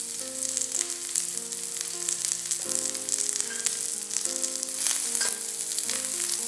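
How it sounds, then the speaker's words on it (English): Garlic, the white parts of spring onions and carrots stir-frying in hot oil, a continuous sizzle under prominent melodic background music, with occasional scrapes and clatters. "Fry them up for about 30 seconds to a minute till they are fragrant."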